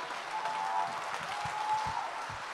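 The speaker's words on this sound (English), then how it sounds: "Clap a little bit, because I'm on." An audience claps during a sermon about Pentecostal couples, with soft, steady applause heard at a moderate distance and no talking over it.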